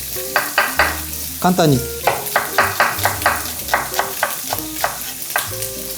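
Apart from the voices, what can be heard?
bacon frying in a pan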